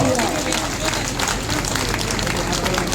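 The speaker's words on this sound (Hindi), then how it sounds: "इसके लिए जोरदार तालियां" A crowd at a political gathering in Sardhana, Meerut, applauding as MLA Atul Pradhan is honoured with a turban: dense, continuous and loud clapping with crowd voices mixed in throughout.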